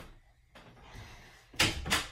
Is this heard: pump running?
no